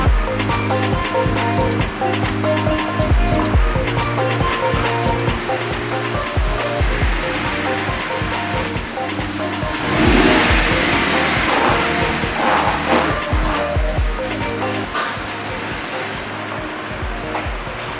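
An Audi R8 drives along at a steady speed, its engine and heavy road and wind rumble filling the cabin continuously, with a brief louder surge midway.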